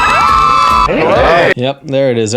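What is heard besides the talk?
people screaming and cheering on a reality TV show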